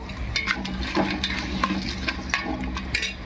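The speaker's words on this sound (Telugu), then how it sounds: "క్యారెట్ వేసుకొని కొంచెం సేపు వేయించుకుందాం." Carrots and potatoes fry in a pan for tomato rice, a soft sizzle under repeated scraping and clinking of a spoon stirring them close up.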